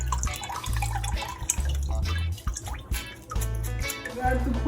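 Water drains from rice rinsed in a kitchen until it runs clear, a steady trickle and drip heard under background music and talk.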